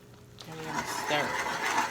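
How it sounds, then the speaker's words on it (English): Spices being stirred into a seafood boil sauce in a pot, giving a steady scraping, clinking stir with a faint low hum beneath it for about two seconds. "And we're gonna stir."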